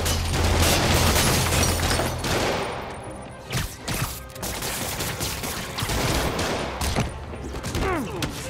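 Rapid bursts of gunfire in Marvel's Spider-Man Remastered, thugs firing on Spider-Man during a safe robbery; loud, dense volleys run continuously, with brief sharper cracks and game effects mixed in, and no talk over them.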